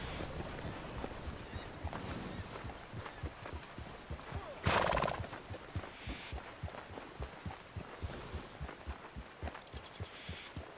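A horse in Red Dead Redemption 2 clip-clops at a steady trot for the whole stretch, and a sharp, loud whinny bursts out midway above the rhythmic hoofbeats.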